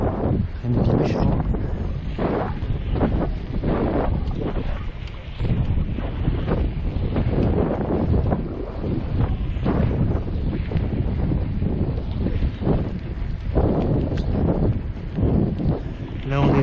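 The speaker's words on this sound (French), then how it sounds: "Là on est à découvert, vous sentez un peu plus le vent." Wind buffets a microphone during an outdoor mountain bike ride on an exposed stretch, on a bike fitted with a SuperWheel 650. The roar is loud and continuous, with gusty surges, and someone talks through it.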